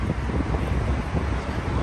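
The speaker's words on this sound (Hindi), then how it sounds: "आज और ठंडी हवा आ रही है" Cool breeze blowing across a sightseeing ship on the large river at Montreal, a steady loud rush of wind buffeting the microphone with a low rumble beneath, continuous and without talk.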